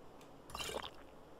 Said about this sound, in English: Drink a bit of water.